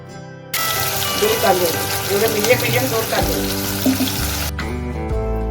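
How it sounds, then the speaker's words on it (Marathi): Chopped onion drops into hot oil already crackling with mustard and cumin seeds, setting off a loud, close, bubbling sizzle that starts abruptly, carries on with soft stirring, then cuts away near the end. "आपण आता कांदा टाकूया."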